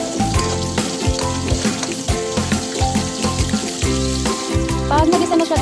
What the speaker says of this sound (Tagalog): Gisa na rin natin.